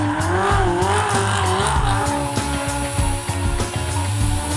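Drift cars at the Goodwood drift arena rev hard and squeal their tires, with engine pitch rising and falling in rapid pulses over loud, close, continuous tire screech.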